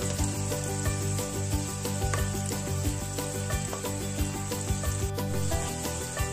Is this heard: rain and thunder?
no